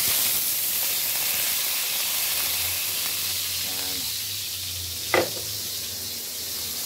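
Garlic and onions sauté in a pan for pork, beef and chicken kaldereta, giving a steady broad hiss and sizzle throughout with a brief louder scrape or stir near the end.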